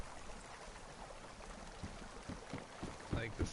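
Steady broadband rush of flowing creek water in the video game DayZ, runs throughout with faint soft knocks and splashes toward the end.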